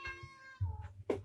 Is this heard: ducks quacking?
no